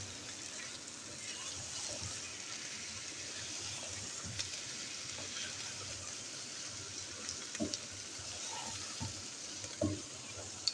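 Okra and minced meat fry in tomato and spices with a steady, soft sizzle, broken by occasional stirring knocks and scrapes close by.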